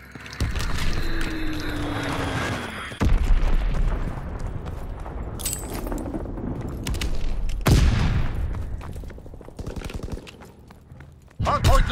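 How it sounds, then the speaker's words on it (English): Bombs and gunfire rumble through a World War II style video game battle as a Fritz X bomb mission plays out, with heavy booms, crackling bursts and vehicle noise filling the scene beneath radio chatter. "Fritz X bomb mission underway."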